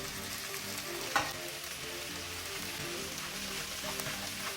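Chopped vegetables with onion, ginger, garlic and chilli fry in a hot pan, a steady dense sizzle running throughout with a sharp stirring scrape near the start.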